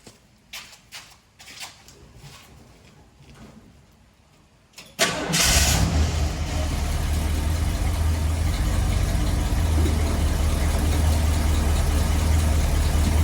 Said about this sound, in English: I suppose I can fire up the vehicle and kind of show you what I'm talking about